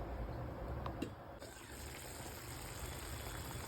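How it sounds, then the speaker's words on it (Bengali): Water pours into a pot of dalia polao with a steady gushing splash, fairly quiet, with a faint clink near the start and no talk. "দিয়ে দেবো 2 বাটি জল, ভালো করে মিশিয়ে আমি ঢাকা দিয়ে দেবো"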